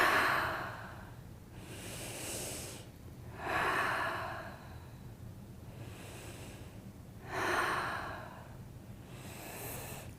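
Slow, deep breaths during a guided breathing exercise, with long audible inhales and exhales repeating about every two to three seconds, close and breathy with no talking.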